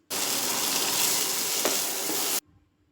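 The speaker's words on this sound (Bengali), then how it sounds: "এবারে ভেজে রাখা চিংড়ি মাছ দিয়ে ভালো করে মিশিয়ে নিচ্ছি।" Fried prawns being stirred into pumpkin leaf paste in a hot pan, giving a steady close sizzle with soft scraping for about two seconds, then stopping abruptly.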